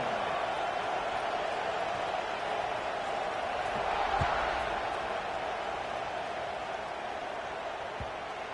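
A packed college football stadium crowd at Arkansas vs Tennessee roars continuously as the kickoff unit lines up, a broad, distant, sustained wash of cheering with a faint commentator voice under it.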